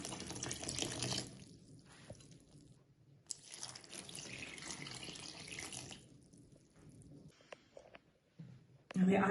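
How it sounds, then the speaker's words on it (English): Running water pours from a tap into a large bowl of pumpkin seeds, splashing and hissing in bursts with pauses between, fairly quiet and close. "Put the pumpkin seeds in the bowl and fill it with water."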